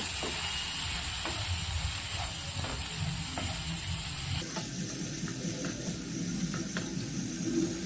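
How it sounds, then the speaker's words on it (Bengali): Chili powder being stirred into small potatoes frying in a pan for aloo dum, a steady close sizzle and hiss with soft scraping strokes of the spoon throughout. "লঙ্কা গুঁড়ো দিয়ে দেব ভালো করে মিশিয়ে নেব"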